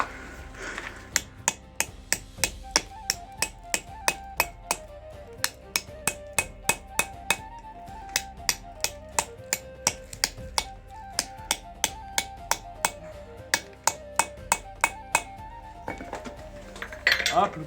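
A hammer strikes a hand-forged knife laid against a stone, dozens of sharp metallic clinks in a fairly steady rhythm lasting over fifteen seconds. The strikes are close and bright, with faint ringing between blows.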